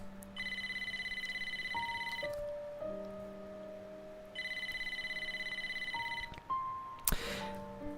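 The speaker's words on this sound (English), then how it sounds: "We heard like a bell, like a phone ringing even earlier." An old-style phone rings in the video game Wuthering Waves, with two bursts of rapid bell trilling set against soft electronic tones and a sustained musical hum, followed by a sharp crash.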